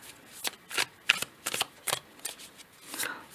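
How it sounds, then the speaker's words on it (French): Tarot cards being shuffled by hand, a quick series of crisp riffling and slapping bursts, close and fairly loud, with no talking. "je vais prendre une deuxième carte pour ce 4 de denier"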